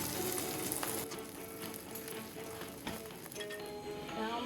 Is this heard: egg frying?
yes